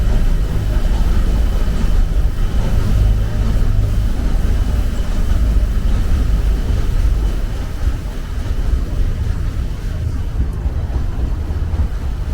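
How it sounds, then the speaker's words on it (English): Low, steady rumble of a paddle steamer's wood-fired steam engine on the Murray River, with broadband mechanical noise and some wind buffeting, continuous and fairly loud throughout. "Wood powered by"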